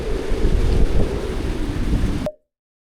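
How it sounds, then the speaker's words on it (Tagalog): Heavy rain comes down in a dense, steady hiss during a motorcycle trip in Benguet while riders shelter, then cuts off abruptly. "Antay lang namin humina or mawala yung ulan."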